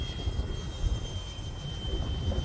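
Freewing MiG-15 model jet with a 64mm electric ducted fan flying in strong wind, a steady whining hiss with a high tone, mixed with rough low wind buffeting on the microphone.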